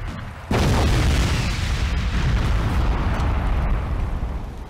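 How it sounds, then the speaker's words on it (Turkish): Fuel tanks blow up in Crysis Warhead with a sudden, loud explosion that swells into a long, rumbling roar of fire and debris, sustained for several seconds before easing slightly. "Yakıt tanklarını patlattılar."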